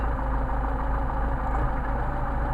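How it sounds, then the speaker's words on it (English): A car engine with Solex carburettors runs steadily up close, a rough continuous rumble with a slightly uneven, stumbling, faltering quality. "You can hear the engine stumble."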